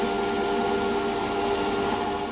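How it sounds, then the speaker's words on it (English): A metal lathe runs steadily while a centre drill bores into a saw mill guide part with cutting oil, producing a loud, continuous close-up machine whir and hum. "So centre drill now, a little bit of cutting oil."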